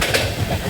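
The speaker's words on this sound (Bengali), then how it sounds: "নেতাজি এক্সপ্রেস দারুণ একটা ট্রেন" Inside the moving Netaji Express passenger train, a short loud stretch of rumbling carriage and wheel noise with a brief clatter.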